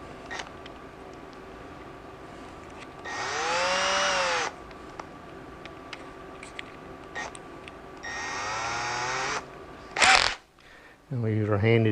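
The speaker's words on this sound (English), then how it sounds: "we use our handy dandy Milwaukee drill, cordless drill" A Milwaukee cordless drill pre-drills holes in a door in short bursts, its motor whining up and down three or four times with quiet pauses between, plus a brief thump at the end.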